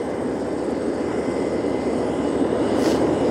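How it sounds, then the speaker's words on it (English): Aircraft engines roar steadily in the distance as planes take off beyond an airport apron outside a maintenance shop, a continuous broadband rumble with no talk. "There's planes still taking off back there."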